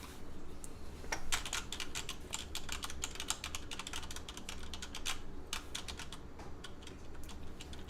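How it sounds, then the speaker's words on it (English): Rapid, irregular key taps on a computer keyboard, lightly pressed, clicking steadily throughout at close range with no talking. "I touched the keys just loud enough to make the sound, but didn't compress any of them."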